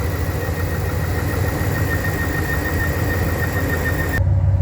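A 2010 Dodge Ram 1500 pickup engine idles steadily and close by, a constant low rumble with an even, unbroken tone that carries on without any talking.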